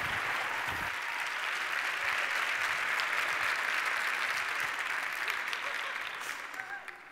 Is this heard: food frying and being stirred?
no